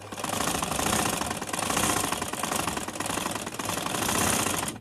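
A sewing machine stitching the collar of a ladies suit runs continuously with a fast, even mechanical chatter, close and steady and without pauses.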